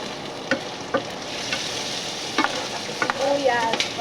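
Shrimp and onions sautéing in a pan, a continuous close sizzle broken by repeated clicks and scrapes of a spatula stirring, with a busier flurry of stirring near the end, no voices.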